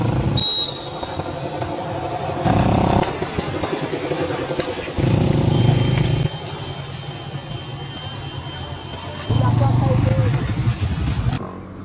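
A motorcycle engine runs nearby with surging rumbles that rise and fall as the bike moves off, mixed with people talking over it outdoors.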